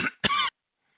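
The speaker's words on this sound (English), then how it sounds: "sorry, I had to cough" Two quick, sharp coughs from a man, close to the microphone, the second one slightly longer, followed by silence.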